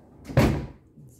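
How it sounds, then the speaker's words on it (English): A single quick slide and thunk as a kitchen cabinet drawer in a kitchen with granite counters is pulled out, close and fairly loud, then quiet. "drawer pulls out,"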